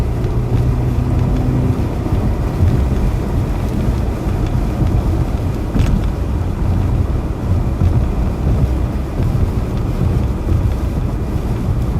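Strong, steady wind roars and buffets without a break during a severe-weather storm chase in the Ohio Valley, a dense, close rumble with no voices.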